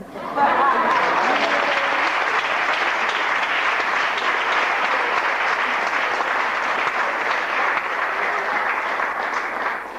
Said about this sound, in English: Please bring along with a big round of applause, Brother Kwame Ture.